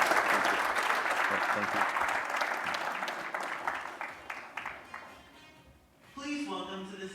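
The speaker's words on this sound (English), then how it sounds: "Let's give a round of applause to Joaquin." A conference audience applauds a speaker named Joaquin, a dense burst of clapping that gradually thins into scattered claps and fades, followed by a brief spoken thank-you and a short musical sting.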